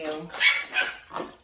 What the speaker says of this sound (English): Don't mind if you hear a puppy barking in the background.